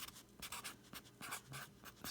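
A marker or pen scratches across cardboard packaging in short, quiet strokes, a handful of brisk scribbling bursts close to the microphone.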